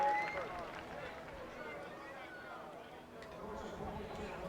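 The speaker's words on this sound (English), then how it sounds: "Listen to the crowd." Cheering crowd of Canadian fans at a CART car race on a 2.7-mile Montreal track, heard as a broad, steady roar from far off.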